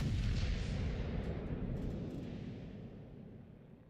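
Naval gun shells in World of Warships Legends, a heavy low rumbling boom that fades slowly from loud to faint across a few seconds, with no voices over it.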